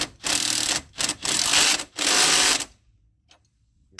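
An impact wrench rattles in four bursts, running a nut onto a strut stud on a 2001-2007 Dodge Grand Caravan. The bursts are loud and close, followed by quiet with a few faint clicks.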